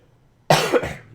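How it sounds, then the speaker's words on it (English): A single harsh cough bursts out close to the mic, followed by a second, smaller cough that tails off. "Oh, man, this cough."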